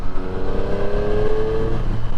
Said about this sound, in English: So I'm in 6th gear now, going 72k an hour. If I put full throttle on,